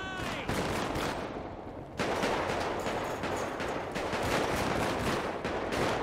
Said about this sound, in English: There's somebody else shooting from the other side